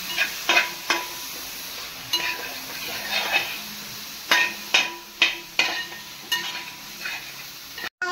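Tomatoes are stirred in a pan for chicken biryani: a spoon knocks and scrapes against the pan in uneven bursts over a faint sizzle, close and fairly loud.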